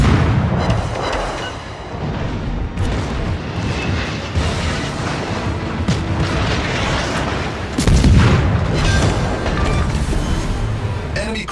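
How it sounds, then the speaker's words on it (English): Explosions and booming blasts from a space combat video game as an enemy cruiser is destroyed, dense and continuous with bursts of louder impact, a sharp swell around the eighth second. "Enemy cruiser destroyed."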